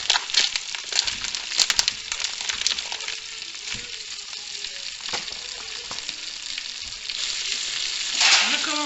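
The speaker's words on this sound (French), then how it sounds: "Hop, donc je les mets dans la poêle." Potatoes fry in a pan with a dense, crackling sizzle up close. It starts with bursts of spitting, settles into an even hiss, then swells again toward the end.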